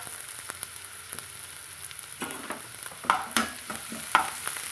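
Chopped onion, ginger, curry leaves and coriander leaves being mixed in a bowl, with scattered scraping and knocking strokes over a quiet sizzling background, a few sharper clinks near the end.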